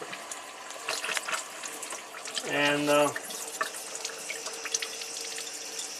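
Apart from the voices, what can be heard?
water running from a tap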